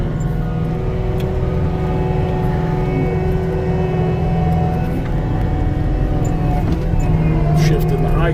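A Caterpillar 289D compact track loader engine runs steadily while the machine drives, a loud close diesel drone with shifting harmonics as gears change, with a voice speaking over it.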